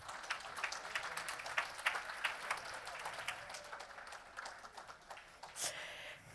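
An audience applauds award winners at a prize ceremony, with a steady patter of clapping that sounds faint and distant and lasts throughout.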